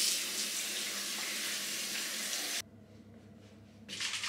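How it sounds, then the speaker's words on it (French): Tap water runs steadily into a bathroom sink while a face is rinsed, a loud continuous splash that cuts off abruptly, then briefly resumes. "Je masse délicatement et je rince à l'eau."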